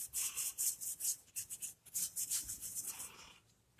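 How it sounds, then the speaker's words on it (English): Cloth rag rubbing over dried chalk paint on a craft pumpkin, soft rhythmic swishing strokes close by, quiet and steady with brief pauses between passes. "I'm just going to go over it with my rag here. Get the swirl marks out."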